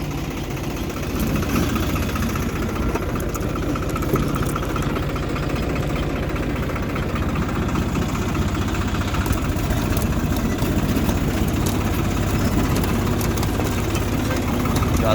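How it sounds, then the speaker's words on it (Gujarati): A tractor engine pulling a pigeon pea seed drill in a field runs steadily throughout, a loud, unbroken low mechanical drone with a faint knocking texture and no pauses. "આપણે જરા ટ્રેક્ટર પર બેસી જઈએ"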